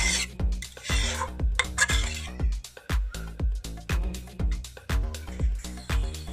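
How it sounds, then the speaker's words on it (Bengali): Vegetable curry bubbling in a pot, giving a steady run of soft pops and clinks with a faint rhythmic stirring scrape, close and moderately loud, no voices. "দেখো তরকারিটা ফুটছে"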